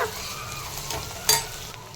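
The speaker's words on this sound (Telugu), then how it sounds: "కొంచెం ఫ్రై అయ్యాయి కదా ఆనియన్స్" Sliced onions frying in a pan for egg pulusu, a soft steady sizzle with a spoon stirring through them and one sharper scrape near the middle, close and moderately quiet.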